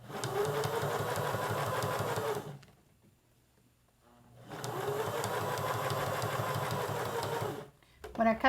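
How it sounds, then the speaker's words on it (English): A sewing machine runs a straight stitch around a hot pad being made into a pouch, humming steadily and up close in two long runs with a quiet pause between them. "we're just going to stitch all the way around this blue."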